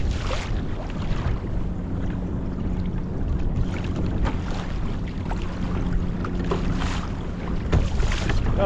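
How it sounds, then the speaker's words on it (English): Strong wind buffets and rumbles across the microphone outdoors on open water from a kayak on Puget Sound, a constant roaring gust with occasional louder surges. "For 6 miles an hour, it sure is windy."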